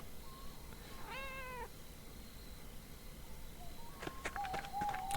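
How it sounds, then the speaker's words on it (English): A cat in the video game Pentiment meows several times as it is petted, soft, close mews over quiet ambient background, with brief faint chirps near the end. "Of course, always have to pet the cat."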